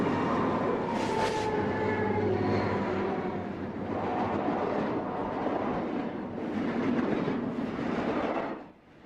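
A BNSF freight train rolls past a grade crossing near Nason Creek at Stevens Pass in the Cascades, a broad rumbling roar with rising and falling surges before fading out at the end.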